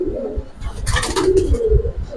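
Giribaz pigeons cooing up close: a couple of soft, throaty rolling coos with a brief rustle or flutter between them.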